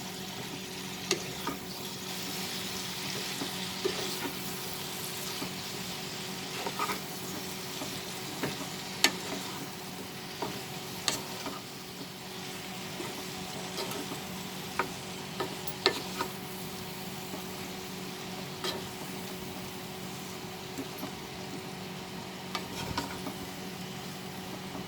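Ivy gourd and potato curry stirred in a frying pan, a quiet steady sizzle with soft scattered scrapes and taps of the spoon, no voices.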